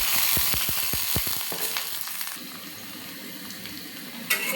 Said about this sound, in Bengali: রসুন পেঁয়াজগুলো একসাথে ভেজে নেব।